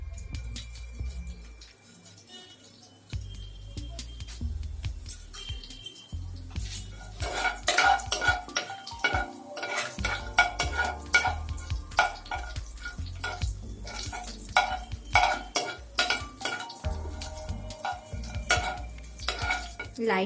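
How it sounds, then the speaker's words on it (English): Cumin seeds and cloves lightly fry in oil in a pan for a mushroom masala, with a soft steady sizzle under frequent metallic scraping and clinking of a spoon stirring against the pan. "Lightly fry this."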